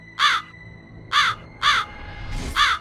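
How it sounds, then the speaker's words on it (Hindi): A crow sitting at a window lattice caws four times in quick, uneven succession, each call loud, harsh and nearby, with quiet gaps between. "अब हर एक भोर और सांझ को कौवा झरोखे पर आ बैठता।"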